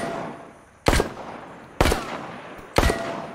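Three loud, evenly spaced gunshots in The Walking Dead VR video game, each a sharp crack about a second apart with a decaying tail over a quiet background.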